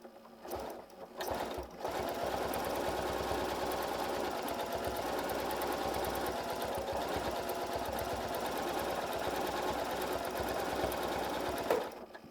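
Janome M8 sewing machine running at a steady fast stitching rate during free motion quilting, a loud continuous mechanical chatter that starts after a brief pause and stops sharply near the end.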